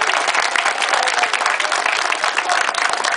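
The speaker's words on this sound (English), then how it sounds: "I think everyone deserves a big round of applause" Crowd at an anti-internment rally on Ardoyne Avenue bursts into sustained applause, dense steady clapping filling the space evenly throughout, loud and continuous with no pause.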